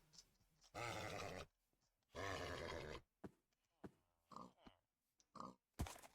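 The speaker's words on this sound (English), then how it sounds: "There's a horse. Are you a good horse?" A horse in a video game gives two long, loud grunting whinnies, followed by several shorter snorts and huffs, with no talk over it.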